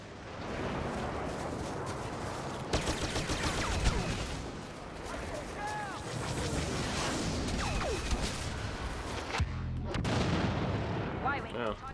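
Dense gunfire and artillery from a Star Wars Battlefront battle roll on continuously, with sharp blasts and booming impacts over a constant rumble, and a voice talks over it.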